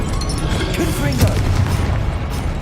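A Confringo fire spell blast in Hogwarts Legacy: a loud, heavy booming burst that rumbles low and stays dense for a couple of seconds, with faint voice-like sounds mixed into the game din.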